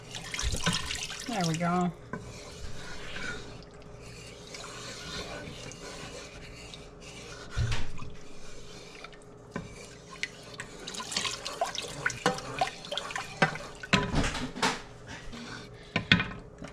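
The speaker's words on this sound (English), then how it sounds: "I'm just going to kind of get maybe about 1/3 of a cup of water in here." About a third of a can of water runs into a cooking pot on a home stove, a short trickling pour near the start followed by clinks and handling sounds, with a voice speaking briefly.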